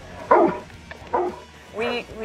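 A search and rescue dog barks three times, close and loud, with short gaps between the sharp barks.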